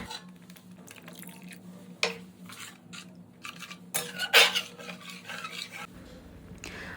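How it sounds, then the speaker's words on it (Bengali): A cup of milk poured into broccoli and mushroom soup and stirred in a pot, soft liquid dribbling and a spoon scraping and clinking against the pan, close and fairly quiet, with a louder splashy burst midway. "এর মধ্যে অ্যাড করে দিচ্ছি 1 কাপ মতো মিল্ক, যাতে এটা একটু ক্রিমি হয়।"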